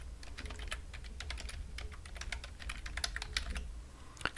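Keys clack on a computer keyboard as a host name is typed, a quick, irregular run of close, light taps with brief pauses and one sharper strike near the end.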